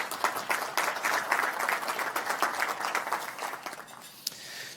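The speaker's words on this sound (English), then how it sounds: "So if we could take a moment and give them a round of applause" An audience at a CXO Tech Forum on digital health claps steadily for several seconds, a moderate round of applause in a hall that fades slightly near the end.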